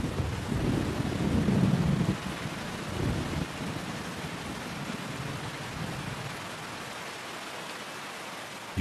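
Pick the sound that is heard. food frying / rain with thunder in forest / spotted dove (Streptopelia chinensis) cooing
rain with thunder in forest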